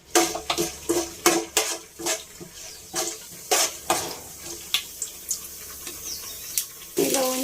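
Tempering seeds crackle in four tablespoons of hot oil for a meal-maker curry, giving a close, irregular string of sharp pops and spits that carries on steadily without voices.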